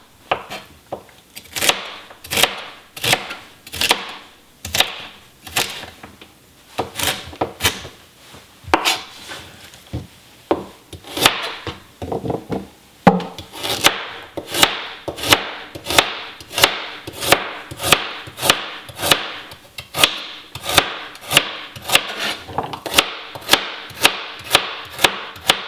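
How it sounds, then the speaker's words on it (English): A knife chops celery into chunks on a wooden cutting board, with dozens of crisp, close knocks in steady bursts and brief pauses between runs. The chopping speeds into a faster, even rhythm toward the end. "Now the easiest way to dice up some celery, you want to get it into smaller strips first"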